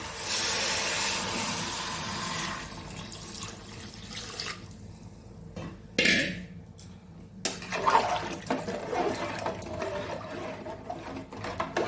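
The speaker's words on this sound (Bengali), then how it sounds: "আর একটু দিয়ে দিলাম জল" Water pours steadily for a few seconds into a pot of vegetarian winter khichuri with new potatoes and cauliflower, then gives way to quieter sloshing, scattered clinks and stirring close at hand.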